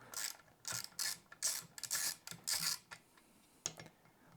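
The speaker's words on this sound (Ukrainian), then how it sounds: "Всі знають, що я люблю розбирати саме трещіткою." Rapid bursts of ratchet wrench clicking while disassembling an X-BOOST E600 gate automation unit, several short runs of sharp metallic ticks in an uneven rhythm, close and fairly loud with no voices.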